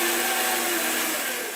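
Longarm quilting machine stitching and basting fabric layers, a steady loud motor whine with a fast continuous hum running alone throughout.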